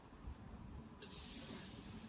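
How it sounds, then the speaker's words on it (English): Acetone poured onto a block of styrofoam, a steady liquid pour with a soft fizzing hiss that swells partway through, close and fairly quiet with no talking. "Do you want to show us what happens when you pour the acetone on it?"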